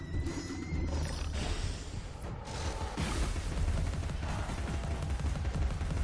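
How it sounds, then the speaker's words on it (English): Gunfire in the video game Alice: Madness Returns, dense and continuous across the whole stretch, with rapid shots blurring together under a busy, booming game mix and no talking. "It's decidedly easier just to shoot them."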